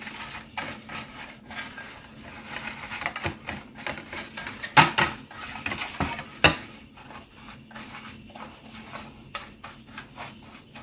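Pecan crust ingredients are stirred together in a bowl, with irregular scraping and clinking strokes, a couple of sharper knocks against the bowl, close and fairly quiet, with no talking.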